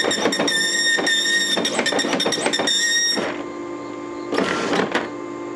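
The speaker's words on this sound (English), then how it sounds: "you can print awesome stuff like that with the dot matrix printer" An Okidata Pacemark 3410 9-pin wide-format dot matrix printer rasps through rapid, loud buzzing print passes with brief gaps, falls to a quieter hum, then fires one more short burst.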